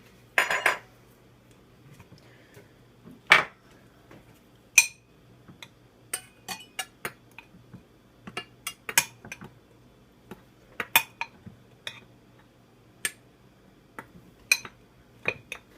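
Dry ingredients go into a mixing bowl for a rustic flag cake as about 2.5 cups of flour are measured in: scattered sharp clinks and taps of a measuring cup and utensils against the bowl, with quiet gaps between them.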